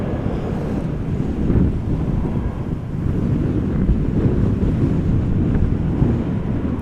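A strong crosswind blows at Amsterdam Schiphol Airport, heard as loud, continuous, low rumbling wind buffeting the microphone, with no voices.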